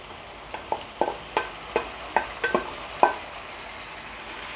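A metal spoon stirs gongura sorrel leaves into chicken curry in a pan, producing a series of about ten distinct scraping clinks over a soft background sizzle.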